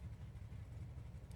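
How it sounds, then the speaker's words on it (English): A Mustang race car engine in the Project CARS racing game, idling with a low, steady, throbbing rumble, quiet and continuous throughout. "I think you just started engine"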